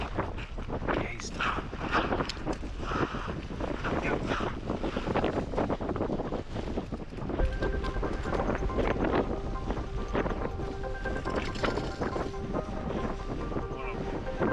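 Gusty wind buffets the microphone out on a frozen lake during an ice fishing competition, a loud continuous rush with people talking underneath.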